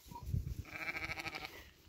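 A sheep bleats once while grazing, a short wavering call close by and fairly faint after a brief low rustle, with no talking.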